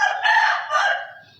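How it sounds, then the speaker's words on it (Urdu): An Aseel rooster crows once, a short, loud, close call of about a second and a half that rises and then trails off, with no other sound around it. "مطلب یہ جو مرغے نے ابھی بانگ دی ہے، اس کا جو پہلا حصہ ہے"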